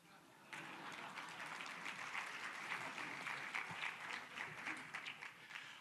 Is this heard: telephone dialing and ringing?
no